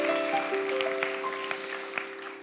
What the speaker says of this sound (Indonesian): mau kasih tepuk tangan sekali lagi buat Tuhan kita